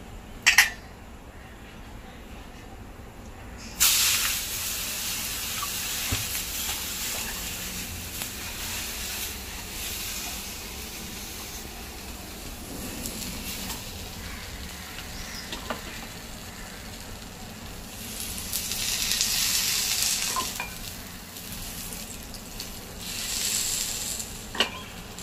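Thalipeeth made from sprouted green moong with jowar and bajra flour sizzles in oil on a pan, a steady frying hiss lasting throughout, louder bursts where oil spreads, with faint utensil clinks and no talk.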